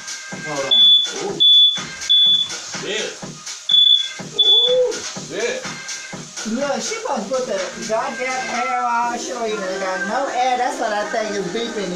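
A smoke alarm goes off during cooking in a house, sounding a string of sharp, high beeps in the first few seconds, with people talking loudly over them and continuing after the beeping stops.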